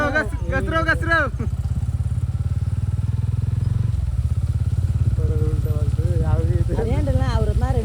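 A motorcycle engine chugs close by on a muddy monsoon forest trail near Bhimashankar, revving and labouring in uneven bursts while several people talk loudly over it.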